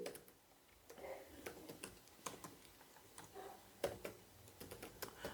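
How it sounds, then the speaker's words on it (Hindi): Someone types on a computer keyboard, with quiet, close, irregular key clicks in short bursts and no talking. "तो यहाँ पे टाइप करेंगे"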